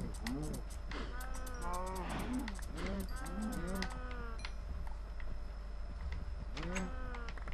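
Cows moo repeatedly in a blocky survival video game, a series of drawn-out low calls clustered together and then one more near the end, over a constant electronic hum with bursts of clicking.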